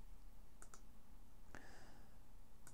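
A computer mouse gives a few faint, sharp clicks over a steady background hiss, with a single clearer click near the middle and no speech.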